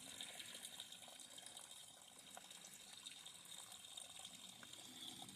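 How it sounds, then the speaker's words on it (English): Steady running water pours and splashes continuously nearby from a piped mountain spring, a soft gushing stream with outdoor ambience. "to hear running water, even before you see it coming out of a piped spring in the mountain."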